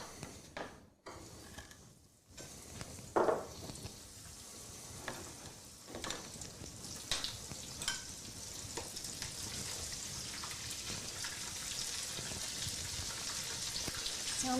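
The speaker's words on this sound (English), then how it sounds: "So we're ready to fry." Fish coated in breadcrumbs and panko fries in oil with a steady, quiet sizzle and crackle that swells gradually, scattered pops and small clinks over the hiss.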